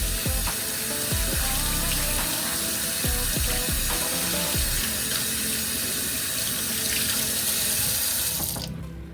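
Tap water runs steadily into a sink during hand washing, with a few faint clicks, then stops abruptly at the end.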